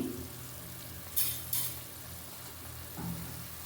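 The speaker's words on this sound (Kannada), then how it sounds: "ಇವಾಗ ನೋಡಿ ಕುದೀತಾ ಇದೆ ಅಲ್ವಾ ಚೆನ್ನಾಗಿ" Fenugreek-leaf rice boiling in a pot, a faint low bubbling simmer with a couple of brief bright scrapes or clinks of a spoon partway through.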